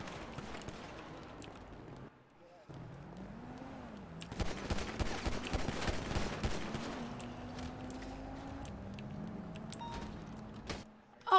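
Rapid gunfire bursts crackle through a roleplay video game, clustered volleys in the middle of the stretch over a steady engine-like drone, with no clear talk.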